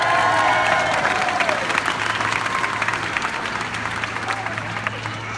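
A crowd at SeaWorld Orlando applauds loudly and steadily throughout, with a faint steady hum underneath and the clapping easing off slightly toward the end.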